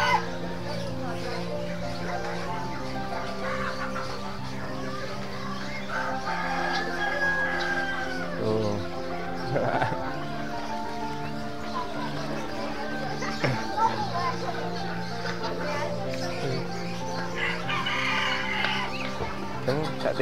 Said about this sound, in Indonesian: Ayam berbulu lebat.